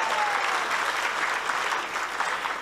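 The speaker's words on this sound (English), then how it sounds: "Please give yourself a big round of applause." Audience applause during a sannyas ceremony lecture, a steady, dense wash of clapping from a gathered crowd that fills the whole moment without pause.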